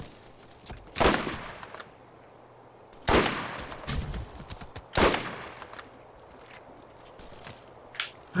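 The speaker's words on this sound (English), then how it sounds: "They are shooting at me." Enemy gunfire in the Borderlands video game comes as three loud, separate bursts of shots spaced about two seconds apart, with quieter impacts and game noise between them.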